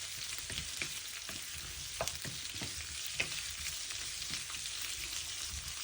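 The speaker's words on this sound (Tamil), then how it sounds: "இந்த வெங்காயம் வதங்கி வதக்கில் ஒரு 150 கிராம் உருளைக்கிழங்கு தோல் சீவி வெட்டி அதையும் இதோட சேர்த்து வதக்குவோம்." Peeled, cut potato pieces sauté with onions in a pan, a continuous close sizzle with light rhythmic stirring clicks throughout.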